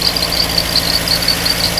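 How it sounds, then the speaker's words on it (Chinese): An engine idles unsteadily at about 1000 rpm from a fuel supply shortage, a close, loud, continuous drone with a faint wavering whine and no talk. "它现在转速在1000多转引擎也不稳定"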